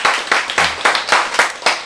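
A church congregation breaks into brisk, loud applause nearby, seven or so sharp rhythmic bursts of clapping in quick succession with a brief voice among them.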